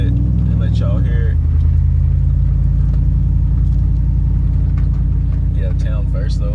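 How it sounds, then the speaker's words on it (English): A car riding on 22-inch rims drives along with a steady, deep exhaust drone that shifts pitch slightly early on and then holds an even, close rumble throughout. "you can hear the exhaust at different RPMs instead of just like full throttle"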